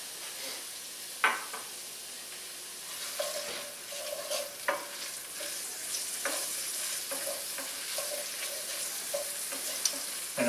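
Meatballs frying in a pan give off a steady sizzle, broken by intermittent scrapes and clinks as they are stirred. The sound is close and continues for about ten seconds without talk.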